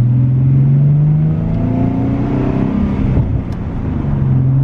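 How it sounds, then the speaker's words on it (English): A 2011 Ford Mustang 3.7 V6 engine revs with a raspy, rumbling exhaust note, rising and steady, loud and close throughout with no talking. "how raspy the exhaust is naturally"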